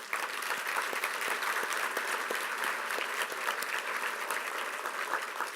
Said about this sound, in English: we give them a nice round of applause